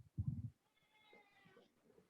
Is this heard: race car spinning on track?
no